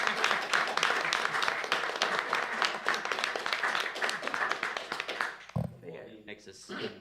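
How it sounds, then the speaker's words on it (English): Audience applause and cheering at a board of directors meeting honoring an award winner, a dense wash of clapping filling the room for several seconds before tapering off. "I'd like to ask you to maybe recognize and help me cheer for Waldine."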